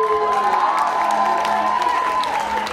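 A crowd cheers and applauds loudly and steadily, with whoops and shouts rising over continuous clapping.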